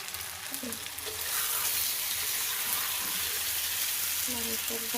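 Chicken curry sautéing in oil in a pan, a steady loud sizzle with occasional stirring, while brief tonal voice fragments and heavy rain can be heard in the background.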